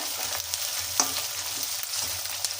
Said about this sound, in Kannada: ಈರುಳ್ಳಿ, ಕಡಲೆಬೇಳೆ, ಉದ್ದಿನಬೇಳೆ, ಇಂಗು, ಹಸಿಮೆಣಸಿನಕಾಯಿ, ಕರಿಬೇವು ಎಲ್ಲ ಚೆನ್ನಾಗಿ ಫ್ರೈ ಮಾಡ್ಕೋಬೇಕು ಕೆಂಪಿಗೆ